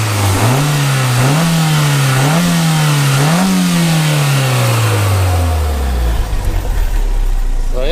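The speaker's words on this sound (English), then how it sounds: "Give it a couple of revs." A 1999 Toyota MR2 GTS Turbo engine revs up and down a few times in quick succession, then settles back and winds down to a low idle; loud and close.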